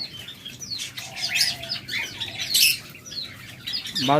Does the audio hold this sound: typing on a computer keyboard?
no